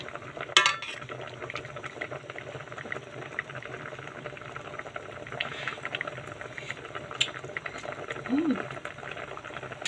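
A ladle stirs simmering soup made with matang baka fish, with soft scraping and liquid sloshing over a steady bubbling background and a brief voice near the end.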